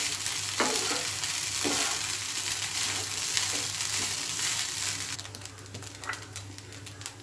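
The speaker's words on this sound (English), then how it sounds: "Now mix it and cook for another 2 to 3 minutes." Coconut rice being stirred and cooked in a hot pan, with a steady sizzle and scraping of a spoon through the grains, a low background hum throughout and a few sharper clinks near the end.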